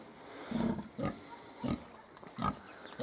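Grunting from Hungarian Mangalica pigs and piglets in several short bursts with pauses between, nearby and fairly faint, some squeakier calls mixed in.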